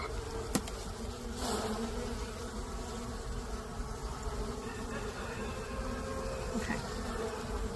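Many honeybees buzz in a dense, continuous drone, close and fairly quiet, with a few brief clicks and knocks.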